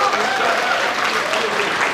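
Loud applause from a meetup audience, a dense, continuous burst of clapping from many hands filling the whole moment, with some voices mixed in.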